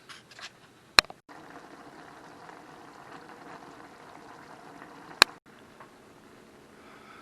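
Teriyaki sauce for beef and broccoli simmers and reduces in a pan, a faint steady bubbling hiss broken by two sharp clacks, with no talk.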